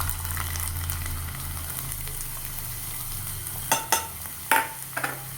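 Small pieces of ginger fry in hot oil in a pan, giving a steady close sizzle, with a few sharp utensil clinks from stirring near the end.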